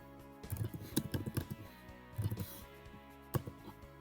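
Quiet typing on a Chromebook keyboard, two short bursts of rapid key clicks with a pause between them and a final single tap, close and soft.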